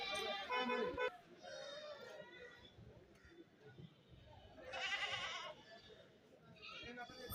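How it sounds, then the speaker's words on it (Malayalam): Goats bleat at a busy goat market, with several loud wavering cries near the start and middle over a steady crowd murmur and nearby talking. "ഇതെല്ലാം കച്ചവടം കഴിഞ്ഞ ആടുകളാണ്"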